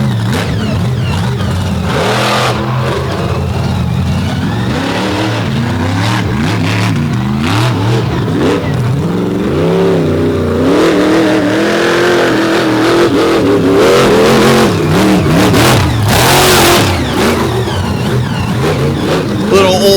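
Mud bogging truck at an all-star championship final, engine roaring and revving hard as it churns through wet mud, loud and sustained with shifting pitch, an announcer talking over it.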